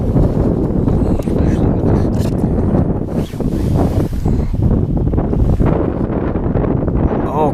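Strong wind buffets the microphone on Lake Norman, a steady, loud, rough roar with gusts and faint water slapping nearby, while voices are heard under the noise.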